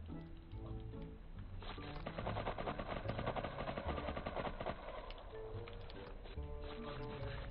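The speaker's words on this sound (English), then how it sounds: "They're pretty sure they're shooting out the turret right now." Turret gunfire in the video game FFXI Horizon, a rapid, steady rattle of shots at moderate distance, with a louder stretch in the middle and game sounds around it.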